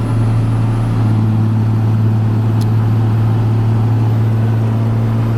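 A 1992 Dodge 2500 4x4 truck cruises on a freeway at speed, its engine and road noise forming a loud, steady, unbroken drone heard from inside the cab without talk.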